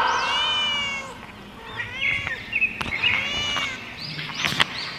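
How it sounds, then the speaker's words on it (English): A cat meows several times in a row, clear, drawn-out, rising and falling calls that sit close and loud over a soft background hiss, with a few short sharper cries near the end. "C for cat."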